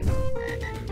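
Frogs croak in the swamp stage of the video game Abathor, a loud, short, throaty croak followed by a lingering tonal call, close and alone.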